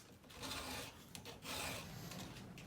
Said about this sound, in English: Oftentimes when you sharpen these things, you only need 2, 3, or 4 swipes at it to get it sharp.